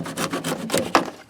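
Cutting through a plastic evap line on a 2007-2013 Chevrolet Silverado during a fuel pump replacement, a series of short, quiet rasping strokes in an irregular rhythm, close by and without talk.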